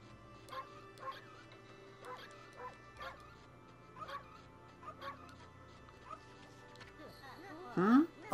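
A white wolf in the Okami HD video game gives a series of short, evenly spaced yips and barks at moderate volume, ending in a louder whimpering cry over a low game hum.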